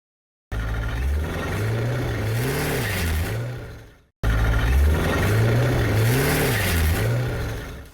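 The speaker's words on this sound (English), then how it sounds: "Here's a shot of when I did a slight launch in the driveway." A C5 Corvette makes a slight launch in a driveway: the engine revs up with a rising and falling drone and wavering pitch, drops off briefly, then revs again, loud and close.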